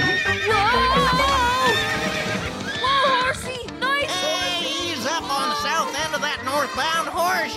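A horse neighs loudly and repeatedly, long wavering whinnies close by, with a voice breaking in briefly partway through.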